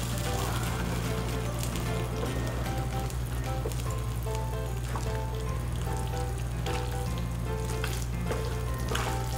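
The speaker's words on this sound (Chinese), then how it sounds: "开始搅拌。 要搅拌到均匀哦。" Radish cake batter stirred in a pan over low heat, a constant wet sizzle and bubbling with soft scraping strokes repeating through it, close and steady, no talking.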